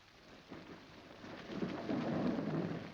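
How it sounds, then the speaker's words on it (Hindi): Steady rain pours down while low thunder rolls and builds, growing louder toward the end, with no voices. "बारिश हो रही है"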